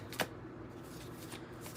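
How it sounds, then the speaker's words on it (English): Oracle cards are shuffled by hand in a continuous soft riffling and rustling, close and fairly quiet, with one sharper snap near the start. "Let me shuffle them the other way"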